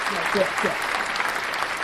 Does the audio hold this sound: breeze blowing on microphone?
no